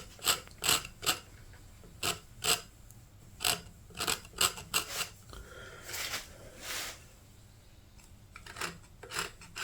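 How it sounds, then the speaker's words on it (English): A chisel scrapes across the wood of an Epiphone acoustic guitar during a brace repair, in a series of short, sharp rasping strokes that come in quick bursts with brief pauses, then a longer, smoother scraping pass. "I'll use this chisel as a scraper here. Clean this up as best I can."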